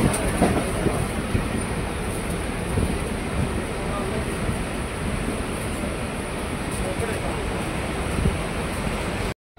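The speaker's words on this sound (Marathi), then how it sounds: "ट्रेन मध्ये बसलं आता." Steady rumble and rattle from inside a moving passenger train near Vangani station, with faint wheel clatter running continuously and loud throughout before cutting off at the very end.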